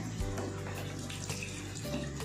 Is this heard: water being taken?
yes